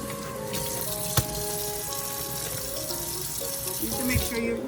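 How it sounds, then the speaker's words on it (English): Tap water runs into a kitchen sink while iceberg lettuce is rinsed, a steady close splashing stream with a few knocks and shifts in tone as the leaves move under the flow. "You have to make sure you rinse your vegetables."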